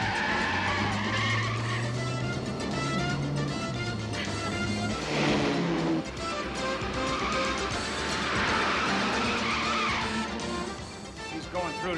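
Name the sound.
bulletproof car driving fast with tires skidding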